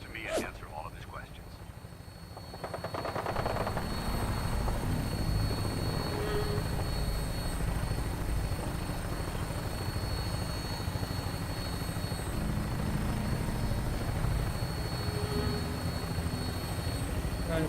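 Aircraft in Fallout 4 on final approach to an airport, a steady, loud rotor-like engine drone that swells after the first few seconds and holds evenly, with a voice speaking over it.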